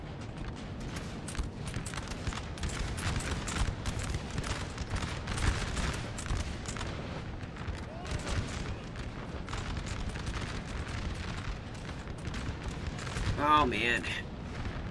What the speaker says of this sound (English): You're just standing here taking artillery.